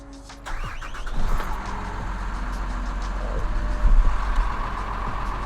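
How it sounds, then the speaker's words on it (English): A box truck engine turns over and settles into a low, steady rumbling idle, close by, with a brief surge in revving partway through. "You do got to start your truck."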